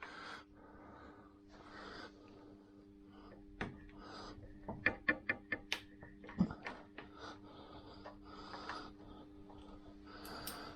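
Stainless steel screws are worked out of a Lambretta SIP speedometer: quiet scraping and handling, then a quick run of sharp ratcheting clicks midway, followed by a few more small ticks.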